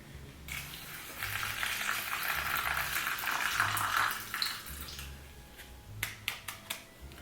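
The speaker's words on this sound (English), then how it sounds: "Let's saturate and pour it." Water is poured into a plant pot to soak the perlite substrate, a soft continuous trickle and fizz lasting several seconds, followed by a few sharp drips and taps near the end.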